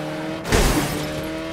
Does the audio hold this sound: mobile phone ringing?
no